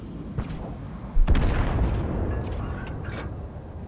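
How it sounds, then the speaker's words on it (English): Tank cannon fire in a tank combat video game: a few booming shots, one loud close blast followed by a rumbling decay, with fainter distant bangs around it. "I'm shooting at the back end of a lot of tanks"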